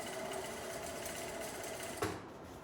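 A sewing machine stitches the hem of scrubs pants with a steady, continuous whirring run up close, then a brief bump and a quieter tail near the end.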